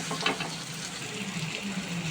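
Coconut and ginger garlic paste fry in a pan with a dense, steady sizzle heard up close and fairly loud, with faint stirring scrapes mixed in and no voices.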